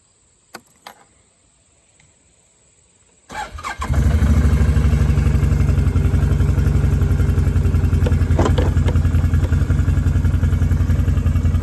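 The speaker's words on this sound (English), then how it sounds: "I basically turn the motor on and open the gate and then just start to go" ATV motor starts after a few faint clicks and then runs steadily and loudly up close with a broadcast seed spreader, a constant droning rumble with light clatter on top.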